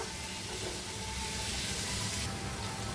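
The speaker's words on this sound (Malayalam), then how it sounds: "നന്നായിട്ട് വഴറ്റിയെടുക്കാം നമുക്ക്." Squid masala with onions sautéing in a pan gives a steady, close hiss of sizzling oil with faint stirring scrapes throughout.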